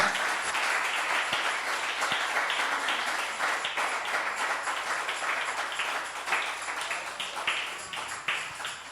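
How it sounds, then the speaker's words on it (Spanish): A church congregation bursts into loud, sustained applause in praise during a worship service, a dense wash of many hands clapping together that holds steady for nearly nine seconds and then thins slightly toward the end. "Dale fuerte aplauso al Señor"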